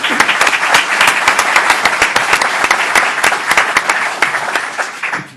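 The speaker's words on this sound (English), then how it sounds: "Let's give Danny a round of applause." Loud, close applause from a crowd at a gathering of local elected officials for County Legislator Danny Liedke, dense clapping that continues steadily for about five seconds before tapering slightly at the end.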